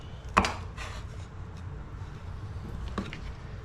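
A knife slices the spiny outer edges off a cactus paddle, giving two sharp, close cutting thunks about two and a half seconds apart over a low, steady background murmur.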